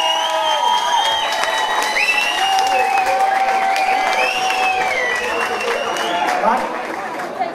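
Loud applause with cheering from a crowd at a CD launch celebration for a band, honouring the maker of a cake; dense clapping and shouts, with voices calling out over it, continue throughout.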